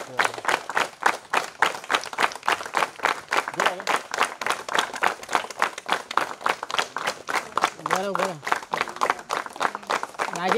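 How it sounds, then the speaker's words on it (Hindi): An audience at a publication event gives sustained, rhythmic clapping that welcomes the authors, with many hands in a steady, close applause lasting the whole time and a few voices faintly mixed in. "आप तालियों से उनका स्वागत करें।"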